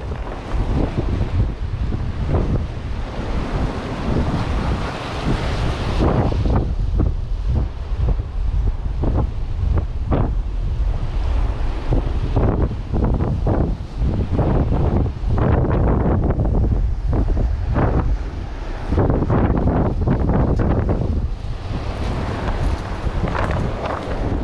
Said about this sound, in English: I couldn't cast this super far because of a strong south wind.